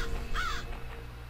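A crow in the video game Bloodlust ShadowHunter gives a single clear caw over a low hum of quiet game ambience.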